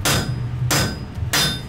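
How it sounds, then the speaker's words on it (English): Heavy hammer blows with the cross pein land on hot wrought iron being forged into a sledge hammer, three sharp, ringing strikes spaced about half a second apart, close and loud. "I'm using the cross pin of the hammer"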